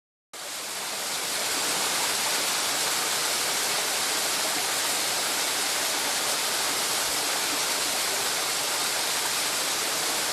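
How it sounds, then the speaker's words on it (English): Running water of a stream along a hiking trail in Acadia National Park near Sieur de Monts Spring, a steady, full rushing hiss that swells in and holds evenly throughout. "Even if you didn't hear the sound of all the running water"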